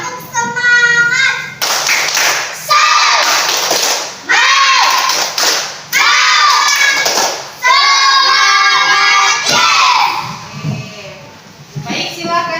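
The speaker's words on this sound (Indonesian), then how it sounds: "coba kita tepuk semangat dulu, biar semangat dalam belajarnya" A class of young schoolchildren clapping a rhythmic cheer together, sharp hand claps in patterned bursts alternating with loud chanting voices across several rounds.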